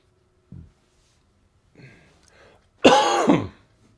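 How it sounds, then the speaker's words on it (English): A person gives a brief single cough, then a short breathy throat rumble, and finally a louder, harsher throat clearing near the microphone, separated by quiet pauses. "I heard myself cough"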